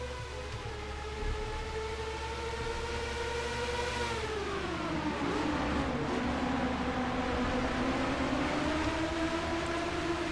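IndyCar race cars pulling away at the start at Watkins Glen in the NASCAR Racing 2003 simulator, a loud sustained engine drone with pitch sliding down and then rising as the cars accelerate, no talk over it.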